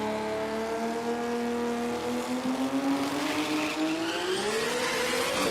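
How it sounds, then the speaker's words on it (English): A Street King drag racing car launches at Willowbank Raceway and spins its rear tyres, a loud, continuous engine howl rising in pitch as it pulls away, with no talk over it. "Car just absolutely lights the rear tyres as he heads off into that beautiful Willowbank sunset."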